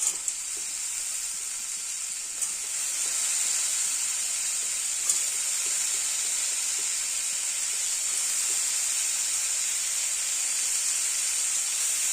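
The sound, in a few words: potato, pointed gourd and peas curry sizzling while sautéed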